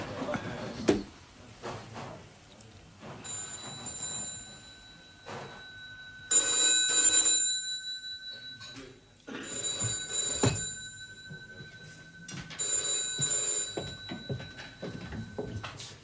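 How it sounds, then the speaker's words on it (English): An old-style telephone bell rings in repeated bursts indoors, some short and some longer, with quiet movement and a brief voice between the rings. "Phone."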